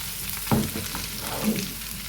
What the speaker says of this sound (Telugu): చూడండి, బాగా మగ్గుతుంది ఇది